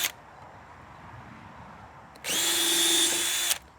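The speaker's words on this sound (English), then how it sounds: "Now for black locust, we need to pre-drill." A power drill whirs loudly for just over a second while pre-drilling black locust wood, starting abruptly and stopping sharply, after a quiet stretch.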